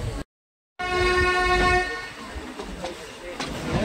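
A single bright toot from the horn of the Ooty toy train, held for about a second after a brief dropout, then fading into low rumbling noise.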